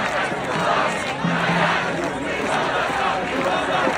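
A large outdoor crowd at a Columbia University faculty walkout shouts and chants in a steady roar, with voices rising and falling together and a speaking voice briefly audible over the din.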